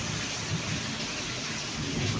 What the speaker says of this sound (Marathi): आता पाऊस तर थोडा कमी झालाय पण अजून ढग कडकडत आहेत